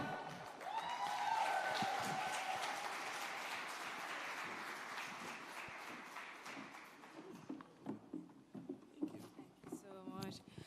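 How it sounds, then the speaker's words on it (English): Audience applause at a work and productivity summit in Jamaica, a dense sustained patter of clapping that swells early and then thins into scattered claps, with voices and cheering mixed in. "Another round of applause, please."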